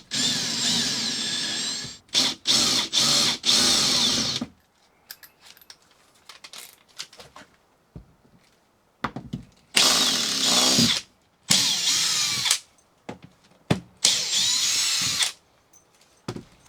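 A power drill whirs in short bursts while backing screws out of teak deck trim on a boat, loud spurts of a few seconds each separated by quiet pauses and small handling clicks.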